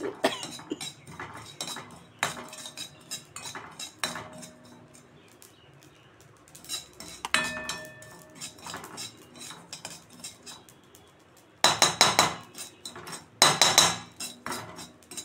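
A utensil stirs poppy seeds frying in a little oil in a pan on a gas stove, making quiet, irregular scraping and clinking in scattered bursts, with no talking.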